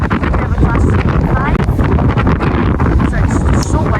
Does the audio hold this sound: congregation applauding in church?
no